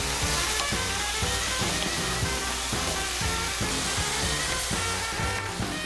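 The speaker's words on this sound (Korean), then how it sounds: "프라이팬을 달구고 기름을 부은 후 풍미를 살리기 위해 채소를 먼저 볶는다." Vegetables stir-fry in oil in a preheated frying pan, the first step of a kimchi fried rice, hissing in a dense, constant sizzle with a rhythmic musical beat running underneath.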